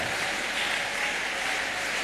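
A church congregation applauds, a brief, continuous burst of many hands clapping at an even level.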